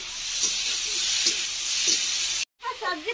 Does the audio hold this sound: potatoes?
yes